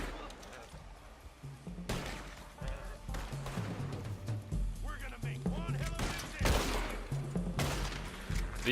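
Gunfire in Red Dead Redemption 2 Online: a few sharp shots and bursts at irregular intervals, moderately loud, with a voice talking in between.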